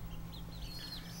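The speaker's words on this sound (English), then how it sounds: "They're chickens." Chickens cluck softly nearby in a farmyard, a few short calls over a low background hum, faint and brief.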